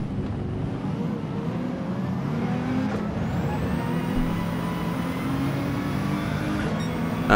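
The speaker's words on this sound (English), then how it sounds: "That turbo pumped a lot of boost." Nissan GT-R Nismo LM race car in Gran Turismo 7 at Spa, a steady engine drone with building turbo whine and a rising whistle, continuous and loud throughout with no talk.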